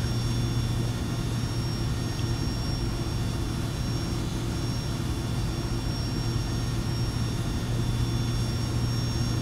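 Boeing 757-200 jet engines in the X-Plane 11 flight simulator, a steady loud rumbling drone with a constant low hum and faint high whine, unchanging throughout and no voices.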